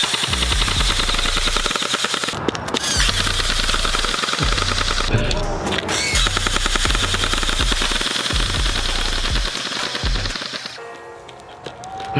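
AI-powered airsoft turrets firing BBs in rapid, sustained bursts, a dense mechanical rattling chatter that stops in short gaps and then resumes, loud and close.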